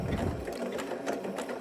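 A sewing machine stitching an applique runs in a fast, steady mechanical whir at moderate volume, with no voices over it.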